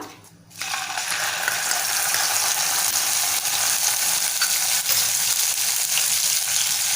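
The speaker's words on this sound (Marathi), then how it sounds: "छान परतून घेऊया दोन तीन मिनटं आपल्याला परतवून घ्यायचं आहे तेलामध्ये" Onion and coconut paste for a Malvani spicy dal sizzles steadily in hot oil, a loud continuous crackling hiss that starts after a brief quiet moment and carries on without talk.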